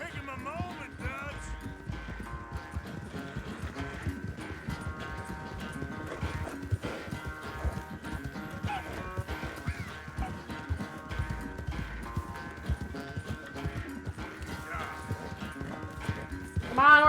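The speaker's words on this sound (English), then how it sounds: "Come on, horsey." Horse hooves clip-clop in a steady trot in the Red Dead Redemption 2 video game, with continuous hoofbeats under in-game music and ongoing talk.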